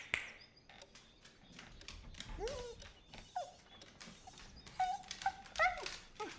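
A dog whimpers and whines in a quiet room, a string of short high yelps and thin plaintive cries close to the listener, with soft taps and rustles between them.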